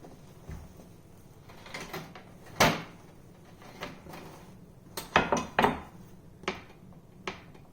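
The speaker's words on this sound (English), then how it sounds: "now it's time to try and get them out of the pans" Metallic clanks and knocks as bread loaves are removed from metal loaf pans, in scattered bursts with quiet gaps between them and no talking.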